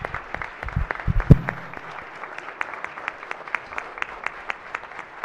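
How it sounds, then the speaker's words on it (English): Applause from an audience in a state Senate chamber during a floor session, steady crowd clapping near and moderately loud, a few louder claps early on, continuing for several seconds. "Let's give them a round of applause."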